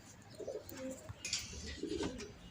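A jhak-gola pigeon coos close by in a few low, soft throaty bursts, with faint chirps and light ambient noise around it and no talking.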